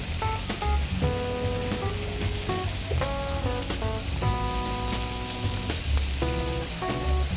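Seafood pan-frying over high heat: a soft, continuous sizzle and crackle under background music with melodic notes, quiet and steady with no voices.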